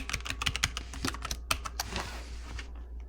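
A password is typed on a computer keyboard, a quick uneven run of close, crisp key clicks that slows and trails off after a few seconds.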